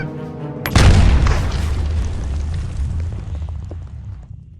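Grenade explosion in Battle Bit: one sharp, heavy blast lands close, then a long rumbling tail slowly fades over several seconds.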